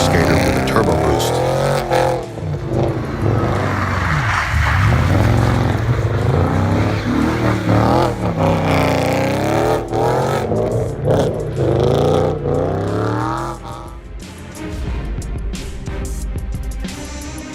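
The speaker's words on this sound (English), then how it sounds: "Snowy roads? No problem. That Audi RS4 glides like a figure skater with a turbo boost." An Audi RS4 driving on a snowy road, its engine note rising and falling loudly and continuously with revving and shifting throughout.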